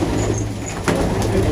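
A captured pigeon gives a brief, low coo at close range against steady background noise.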